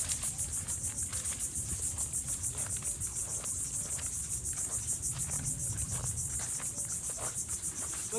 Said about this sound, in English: That sound of nature is music to my ears. Lots of bugs.